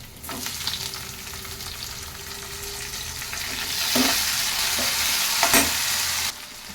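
Onions sizzle steadily in hot oil in a pan for a capsicum masala curry, with a few louder stirring scrapes in the middle stretch and no talk.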